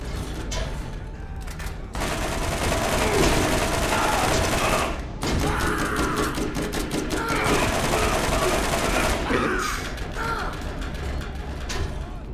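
Rapid bursts of assault rifle fire in Borderlands, loud and sustained with a short gap, crackling in dense fusillades alongside mechanical clatter.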